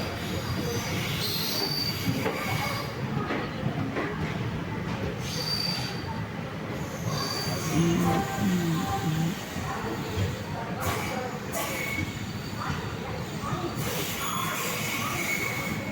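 An Indian Railways train slows at Tiruchirappalli junction with a sustained metallic wheel squeal and rolling rumble, then brief squeaks and clanks as the carriages ease toward a stop; faint voices sound in the background.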